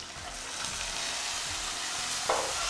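Octopus sizzles in a hot pan while being flambéed, a steady, soft frying hiss with light stirring scrapes throughout and a brief brighter flare of sizzle near the end.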